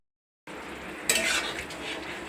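Kalmi greens batter being stirred in a hot wok, silence giving way to a soft sizzle, then a sharper burst of hissing and scraping as the spoon moves, continuing steadily without talk.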